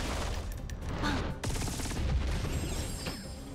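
Rapid, sharp blasts go off in a game-combat sequence in Honkai Star Rail, a dense burst of cracks and booms layered over game music with several distinct impacts.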